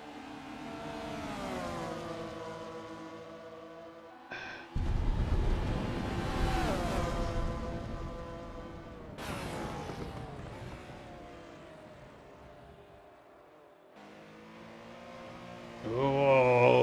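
Race cars in a sim racing game at Kyalami, including a Camel Porsche, engines whining and rising through the gears as they pass one after another, then fading before a loud new surge near the end, with no voices.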